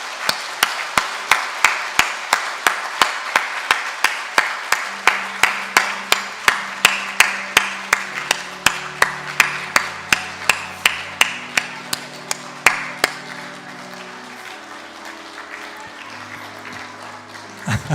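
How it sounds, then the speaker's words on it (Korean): A church congregation claps in a steady, quick rhythm to celebrate children's baptism during a Sunday morning service, with soft sustained keyboard notes underneath. "우리 뜨거운 박수로 축하하도록 하겠습니다"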